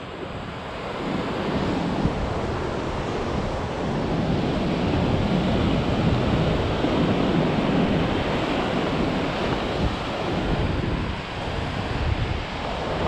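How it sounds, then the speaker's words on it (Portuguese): Sea waves break and wash steadily along a Portuguese shore where sea bass are fished, a loud, continuous surf roar mixed with wind buffeting the microphone, with no voices. "Olha o mar, olha o mar!"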